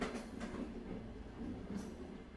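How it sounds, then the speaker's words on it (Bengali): A train at night clatters past a station, a low steady rumble of wheels and carriages with faint rhythmic clacks, heard quietly and without voices. "ট্রেনের খটখট শব্দ হঠাৎ যেন কয়েক ধাপ বেড়ে গেল।"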